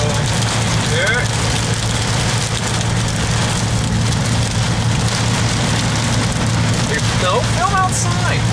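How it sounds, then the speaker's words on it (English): A steady, dense patter of pea-size hail rattles on surfaces throughout the storm, loud and continuous, with a low engine-like hum underneath. "We got hail."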